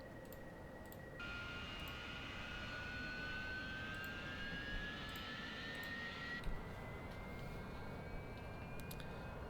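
Jet engine of a Harrier aircraft in a video game, a steady loud whine and roar that rises in pitch as the engine spools up, with a tone climbing gradually and no talk over it.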